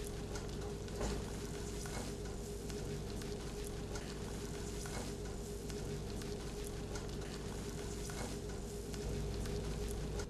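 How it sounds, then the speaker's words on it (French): Chocolate pieces and butter melting together in a saucepan over very low heat for a chocolate cheesecake, a steady soft sizzle and faint stirring scrapes, close and continuous with no talking. "On va faire fondre le chocolat cassé en morceaux et le beurre."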